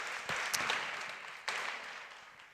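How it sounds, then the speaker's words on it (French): Audience applause after a presentation at an education technology event, heard as a faint, diffuse patter of clapping that swells briefly twice, sounding distant. "Je crois qu'on peut les applaudir."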